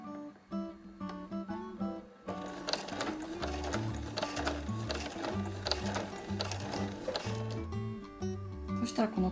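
A sewing machine stitches a phone pochette in a fast, rhythmic mechanical whir with a ratcheting beat, starting after a short pause. Light background music plays under it.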